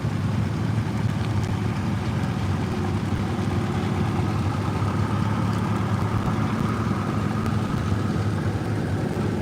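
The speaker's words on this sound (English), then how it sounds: "It's a benefit tractor pull." A heavy tractor engine at a tractor pull in Pennsylvania rumbles steadily at a distance, a continuous low drone with no talking over it.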